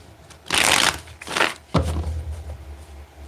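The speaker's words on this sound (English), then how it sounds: "One more shuffle here." A deck of tarot cards is shuffled by hand in two quick riffling bursts, followed by a soft tap as the cards settle. The sound is close and heard alone, with no talking.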